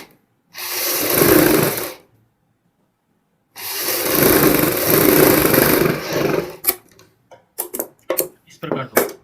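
Sewing machine stitching a seam along the centre of a sleeve piece: two sustained runs of steady buzzing motor noise, the second longer, followed by scattered clicks and handling sounds.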